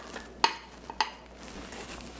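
Cheese being worked slowly into glossy, beaten dough for a holiday appetizer; two sharp clinks of a utensil against the bowl stand out over a faint, soft background of mixing.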